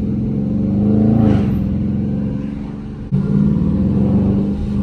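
A Dodge Charger RT heard from inside the cabin while drifting through corners, its engine droning and swelling through revs with a sudden surge partway, loud and without talk.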